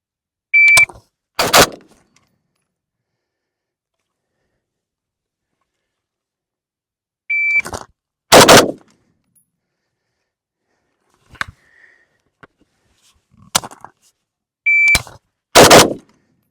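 A Norinco 84-S AK rifle in 5.56 is fired outdoors in three widely spaced strings, each a short electronic beep followed by two sharp, loud shots, with silence between strings.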